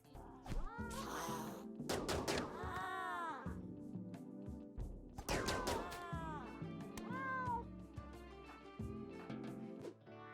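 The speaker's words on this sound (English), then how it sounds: "British short-hair cats, eh?" A manhunter pack of British shorthair cats meowing in the video game RimWorld, several loud, close, overlapping meows in quick bursts over a low game-sound background.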